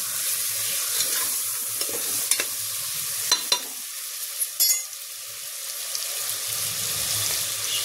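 A spoon stirs coriander leaves, mint, turmeric, chilli powder and roasted cumin powder into a frying dish. Steady scraping and soft sizzle run throughout, with a few sharp clinks of the utensil against the pan near the middle.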